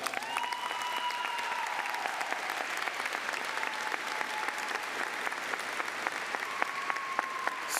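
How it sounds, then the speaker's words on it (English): Sustained applause from a large audience at a high school commencement ceremony, honoring graduates' parents and families; a steady wash of clapping runs the whole time, with faint voices mixed in. "Let's give them a round of applause."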